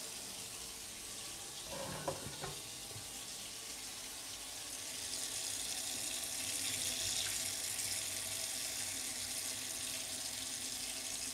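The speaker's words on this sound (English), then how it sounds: "Some hot water." Hot water runs steadily from a tap into a cooking pot while brown stew red snapper is being prepared, a continuous close hiss that swells slightly louder partway through, with a few faint clinks near the start.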